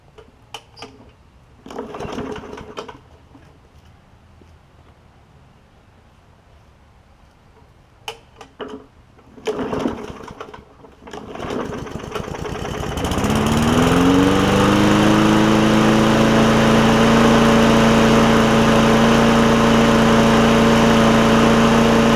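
A Bolens push mower with a Briggs OHV engine and a hard-pulling starter rope: a few brief pulls and clunks, then the engine catches and settles into a loud, steady, close-up running drone that holds to the end.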